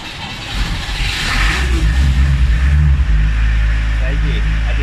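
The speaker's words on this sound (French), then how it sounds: "C'est une très vieille voiture, elle fait beaucoup de bruit" An old Peugeot 404 engine starts after glow-plug preheating and settles into a loud, rough, steady running rumble close by.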